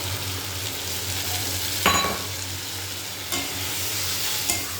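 Spice paste with a little water sizzles steadily in a hot pan while a spoon stirs it, giving a few scraping knocks against the metal over the constant frying hiss; no one speaks.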